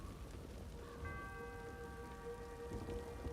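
Soft, steady rain from a rain spell in Divinity: Original Sin patters quietly throughout, joined partway by a sustained ringing tone.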